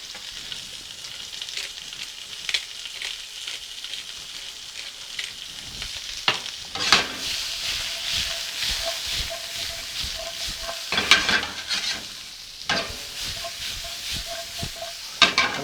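Mixed vegetables frying in a pan, a steady sizzle broken by repeated scraping stirs and clatters of a utensil, close and fairly loud with no voices.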